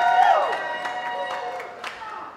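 A street show audience votes by clapping, screaming and shouting for more juggling, a moderate wash of crowd noise and cheers with a voice rising over it at the start.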